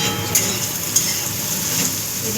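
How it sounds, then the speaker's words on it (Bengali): Sliced bitter gourd fries in a pan with a soft, steady sizzle, broken by a few light clinks of a utensil against the pan. "এদিকে আমার উচ্ছে ভাজাও হয়ে এসছে।"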